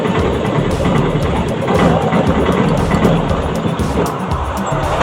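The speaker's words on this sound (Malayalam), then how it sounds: "നിങ്ങൾ ഈ റോഡിലൂടെ പോകുന്ന വാഹനങ്ങളുടെ കാഴ്ചകളൊക്കെ ഒന്ന്" Vehicles pass by on a road, a loud, steady engine rumble and tyre roar close at hand that swells slightly as traffic moves past, with no clear talking.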